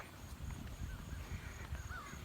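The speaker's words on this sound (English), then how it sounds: "Are those crows laughing at us?" A few faint crow caws come from a distance over resort grounds at Big Cedar Lodge, Branson, Missouri, scattered over a low outdoor rumble.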